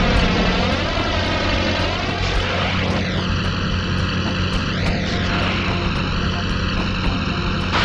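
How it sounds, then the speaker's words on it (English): A propeller plane's engine drones loudly and without a break in Spider-Man 2: Enter Electro, a PS1 game, the plane out of control. Pitch sweeps and whines rise and fall over a constant roar. "That plane's out of control."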